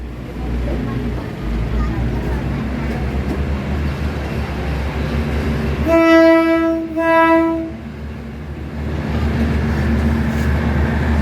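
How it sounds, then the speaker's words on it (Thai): Thai passenger train 4317 pulls out of Wongwian Yai station, its horn sounding two long, loud blasts over steady rumbling engine and wheel noise close by. "ตอนนี้นะครับก็ได้เวลาที่ขบวน 4317 ออกจากสถานีวงเวียนใหญ่"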